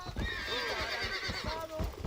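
A horse in the video game Red Dead Redemption whinnies loudly and up close, a long wavering neigh mixed with clip-clopping hooves.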